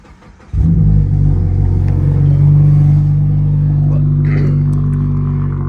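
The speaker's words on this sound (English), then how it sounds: "let's get a cold start." A Mazda car's engine cold-starts with a quick crank, then settles into a loud, steady, deep idle rumble close by.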